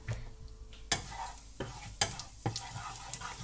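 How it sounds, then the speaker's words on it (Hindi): Cumin seeds fry in hot oil with a soft, steady sizzle while a spoon stirs, giving several sharp scraping knocks against the pan, close by. "मैंने यहाँ पे तेल गरम कर लिया था फिर वहाँ पे जीरा मैंने जीरा दे दिया बस उसको थोड़ा सा भून के"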